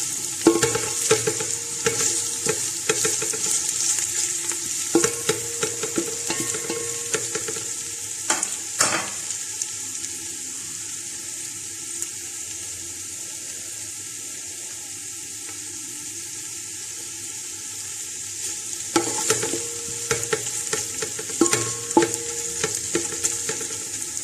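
Ginger and green chillies frying in a pot of oil for mutton yakhni pulao, a steady close sizzle with bursts of stirring scrapes and clinks, busiest at the start and again near the end, no talking.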